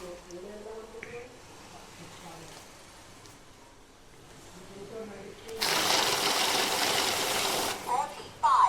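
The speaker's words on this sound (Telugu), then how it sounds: "ఇది క్యాష్ కౌంటింగ్ మిషన్ అండి ఇది ఇప్పుడు ఆన్ చేశాను" A cash counting machine switches on for a demonstration and runs with a loud, even whirring rush of notes for about three seconds, after a stretch of quiet talking nearby.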